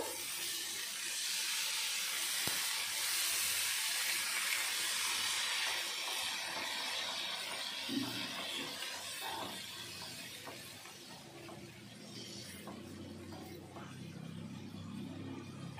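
Water poured into a pan of well-fried spice paste for a koi fish gravy sets off a steady, faint sizzling hiss that continues as the gravy simmers.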